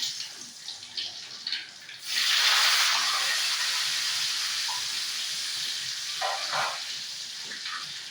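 A sudden loud sizzle bursts out as dried red chillies and curry leaves drop into hot oil, then settles into a steady, close crackling hiss.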